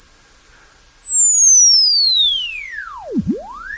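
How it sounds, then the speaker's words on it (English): A steady pure electronic sine sweep glides smoothly across the hearing range and bends sharply at a low turning point before climbing again, loud and continuous with no voices. "Right now I've got an audio sweep signal sent to these analyzers, going from lowest to highest human hearing frequencies"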